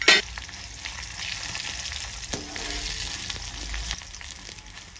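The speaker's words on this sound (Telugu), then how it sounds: "మెంతులు, ఎండుమిరపకాయలు, ధనియాలు, జీలకర్ర వేసి వేయించాలి." Fenugreek seeds, dried red chillies, coriander seeds and cumin fry in a little oil in a frying pan, giving a steady close sizzle with light crackle and a brief louder pop at the start.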